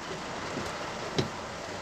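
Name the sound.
heavy rain in the city centre of Caruaru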